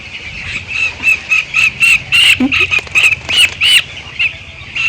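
Young chicks on a poultry farm peep in a steady stream of high, repeated chirps, close and fairly loud, with a brief flutter of wings partway through.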